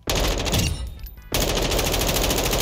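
M4 rifle fired on the firing range in Call of Duty Modern Warfare 2, a loud continuous automatic burst that breaks off briefly, then resumes just as hard.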